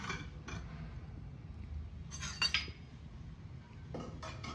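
A spoon clinks and scrapes against a metal pot while sweet Pongal is cooked with ghee, a few brief close metallic knocks with quiet gaps between, no voices.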